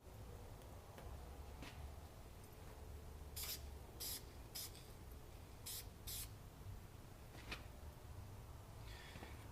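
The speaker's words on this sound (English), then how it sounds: "just a couple little sprays like that" Several short, soft bursts of black spray paint applied to a chatterbait bass fishing lure, spaced irregularly over a quiet background with no talking.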